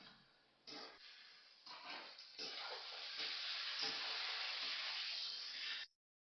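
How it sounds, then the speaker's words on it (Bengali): Chicken and onions frying together in a pan, a soft hissing sizzle that swells after a few bursts and holds steady before cutting off abruptly, no voices. "একটু ভাজা হলে চিকেনটা দিয়ে দেবো, যাতে চিকেনে পেঁয়াজে একসাথে ভালোভাবে ভাজা হবে।"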